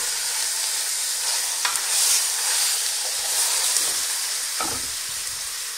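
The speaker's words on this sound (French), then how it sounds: "je la fais colorer dans ce mélange en la remuant sur les deux côtés pendant 5 minutes" Lamb pieces browning in an oil mixture in a cocotte for a tajine with apricots and walnuts, a loud steady sizzle and hiss with occasional scraping stirs and utensil knocks.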